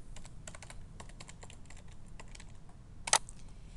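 Keys clatter steadily on a computer keyboard as someone types a web address into Internet Explorer, a quick irregular run of soft clicks with one sharper, louder keystroke near the end; no one talks.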